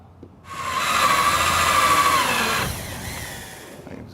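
Cordless power driver sinking a screw into decking boards: a single whirring burst of a couple of seconds that rises and holds, then drops off as the screw seats, close up with no talk.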